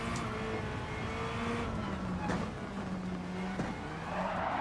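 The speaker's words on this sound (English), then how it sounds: "I love the sound of the car." A race car engine in Gran Turismo 7 roars steadily, rising and falling with gear changes, with brief tire squeals and skids, loud and close, with no talk.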